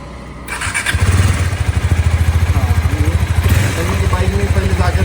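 Motorcycle engine idling close by as the bike is parked, a steady throbbing pulse with a rapid, even beat that starts after a brief quiet moment and keeps thumping to the end.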